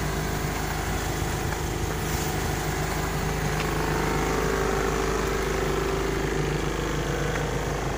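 Steady, continuous engine drone with a low rumble throughout, like a car running while driving, no voices.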